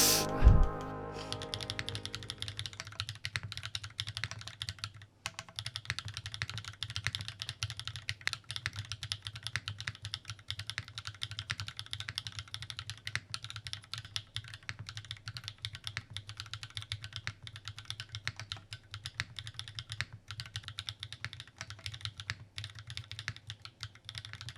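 Kinetics Kelvin custom keyboard, a heavy 5 kg build with clicky switches, typed on steadily at close range, a dense continuous stream of crisp keystrokes with no pauses and no voices.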